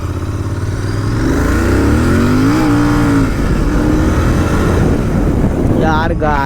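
A modified GT 650 motorcycle revs hard nearby in a market, its engine note rising and holding in a sustained loud roar with wind buffeting the microphone; voices are heard near the end.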